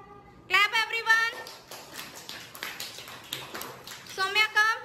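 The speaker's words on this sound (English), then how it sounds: "Clap everyone." Nursery children clap together in class, a burst of quick, uneven hand claps set between a voice at the start and again at the end.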